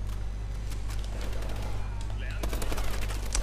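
Gunfire in Call of Duty: Advanced Warfare played on PS4: bursts of rapid automatic fire and sharp shot cracks over a steady hum of game audio, with a player talking throughout.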